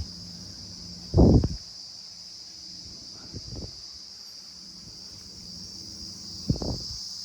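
Crickets chirping at a forest resort in Jhargram, a constant high shrill drone running throughout, broken by a few louder nearby rustles and knocks.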